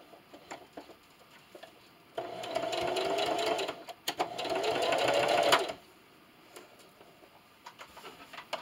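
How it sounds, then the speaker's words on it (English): A sewing machine runs a straight stitch through a fleece scarf at stitch length 2, in two steady bursts of even mechanical whirring separated by a brief pause, with quiet room sound before and after. "I'm just going to sew until I get to my last pin"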